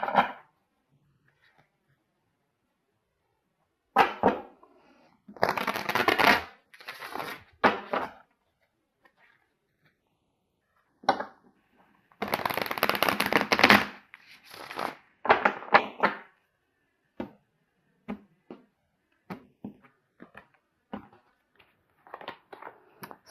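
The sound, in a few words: shuffling Osho Zen tarot cards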